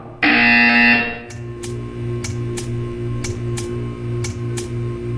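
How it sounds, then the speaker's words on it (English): A loud electronic buzzer in Portal 2 blares for about a second, followed by a steady hum with repeated soft clicking ticks. "You will hear a buzzer."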